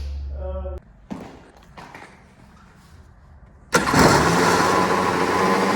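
A 1990 Yamaha WaveRunner jet ski engine, missing its throttle and choke cables, cranks with short thumps, then catches and runs loud and steady with a rough roar close by.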